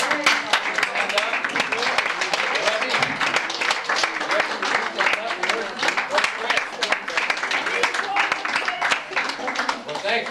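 Audience applause for Greg and Arlena, the organizers of a 2001 family reunion, a dense, steady patter of many hands clapping close by for the full stretch, with cheers and voices mixed in.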